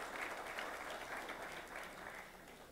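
A crowd at a congressional district forum applauds to welcome the speaker's wife, a steady wash of many hands clapping that holds evenly and fades slightly at the end.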